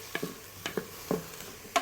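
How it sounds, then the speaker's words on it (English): Chopped garlic and onions fry in a pot, with a faint steady sizzle broken by a few soft scraping stirs of a utensil. "Now we'll fry this for a while until we can smell the beautiful fragrance from our garlic."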